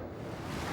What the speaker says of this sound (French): C'est reposant, le bruit des vagues.